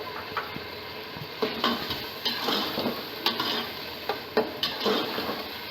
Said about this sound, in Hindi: 3 अदद मैंने दरमियाने साइज़ के टमाटर लिए हैं यहाँ पर, इसे भी डाल लेंगे